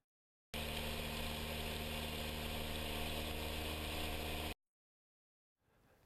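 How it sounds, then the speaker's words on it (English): Piper Warrior III aircraft engine droning in the cabin, a steady broadband hum with tonal layers that holds for about four seconds and then cuts out sharply. "it just begins to pick up the background sound of the engine"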